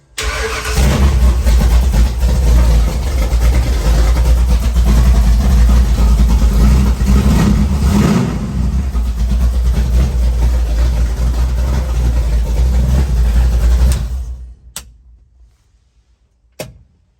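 A four-wheel-drive bog truck, freshly rewired with a new MSD distributor, runs with a loud, close, steady engine rumble for several seconds, then shuts off and falls quiet apart from a couple of faint clicks.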